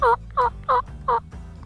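Wild turkeys gobbling as they approach during a hunt, four loud rattling gobbles in a steady rhythm about every quarter second apart, followed by a fainter fifth call, fairly close with no talk.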